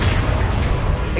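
A Confringo explosive spell going off in Hogwarts Legacy, a short loud burst with a dense low rumble that fills the whole moment and then falls away slightly at the end.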